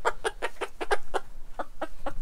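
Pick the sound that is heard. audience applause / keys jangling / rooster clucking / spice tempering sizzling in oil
rooster clucking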